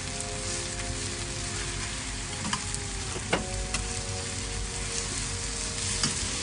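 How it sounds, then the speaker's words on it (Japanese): Chicken coated in a spicy sauce fries in a pan, giving a loud dense sizzle with scattered pops and scraping as it is tossed to coat, and no voices. "ピリ辛ダレをぴょーんとかけて、でね、しっかり絡めるよ"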